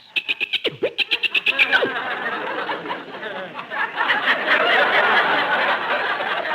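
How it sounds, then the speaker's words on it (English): Monkeys chattering as a jungle sound effect in an old-time radio comedy: a rapid run of sharp, squeaky chirps at the start, giving way to a dense, continuous jabbering racket that stays loud throughout. "the chatter of the monkeys"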